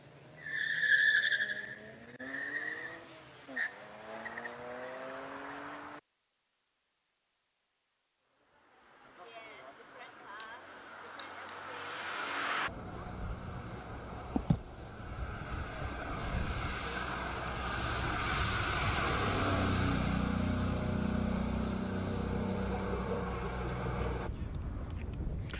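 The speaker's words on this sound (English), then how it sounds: "BMW attacking the hill with much confidence" A BMW race car charges up a Cape Town hill-climb course, its engine rising from a distant approach into a loud, sustained roar with tire noise, following a stretch of voices talking.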